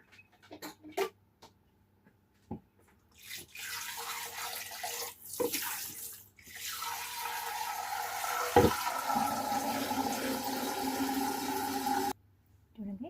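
Water runs steadily from a kitchen tap into a cooking pot for several seconds, preceded by a few clanks and handling noises, then stops abruptly.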